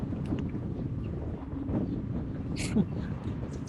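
Gusty wind buffets the microphone outdoors, a steady low rumble lasting throughout with a brief brighter gust near the end; no talking over it.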